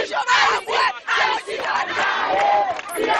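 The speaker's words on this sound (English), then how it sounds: "a crowd gathered to make their views heard" A crowd of protesters in a Haitian camp shouts together in loud, surging bursts of massed voices, rising and falling in a rough rhythm that fills the space up close.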